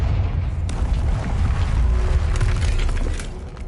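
A Confringo fire spell in the Hogwarts Legacy video game bursts into a sustained, heavy booming blast with a rumbling low roar that fills the whole moment before easing off near the end.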